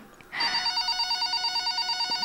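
Telephone ringing starts abruptly and continues as a loud, close electronic ring pulsing in steady rapid bursts, with no talk over it.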